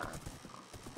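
Horse hooves clip-clop in the video game Minecraft, a quick run of soft, evenly spaced steps heard faintly with no speech.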